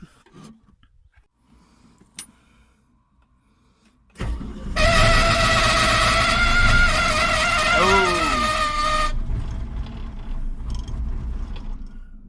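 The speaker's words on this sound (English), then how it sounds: "I'm going to try to start it right up." Faint clicks in near silence, then a heavy four-cylinder excavator engine cranks and bursts into life, running loud and steady with a rough mechanical clatter, not firing on all cylinders.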